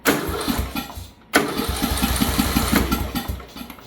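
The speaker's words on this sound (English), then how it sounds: "well, now it won't start." Bolens lawn tractor engine cranking without catching, a close, loud rhythmic chugging of the starter that pauses briefly and then resumes for several seconds.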